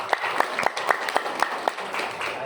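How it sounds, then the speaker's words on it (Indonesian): A small audience gives scattered, fairly sparse clapping at a community gathering on narcotics prevention, with individual claps standing out in an uneven rhythm. "Tepuk tangan Bapak Ibu sekalian."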